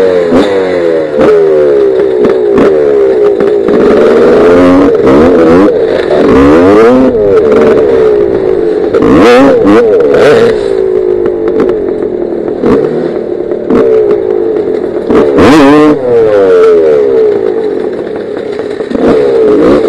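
A motorcycle engine revs loudly and repeatedly with its choke held up, rising and falling in rough surges, close by with a clattering edge.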